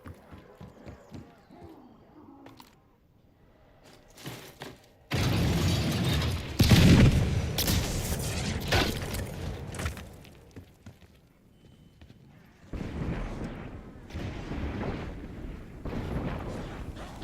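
A cannon in Black Ops Zombies fires with a heavy boom and a long rumbling roar, and another blast follows several seconds later after a quieter stretch.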